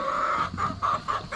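Chickens clucking in a muddy coop, several close, repeated rhythmic clucks in short bursts with no talking.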